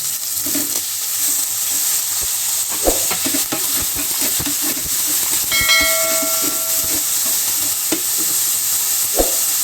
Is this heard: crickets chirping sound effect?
no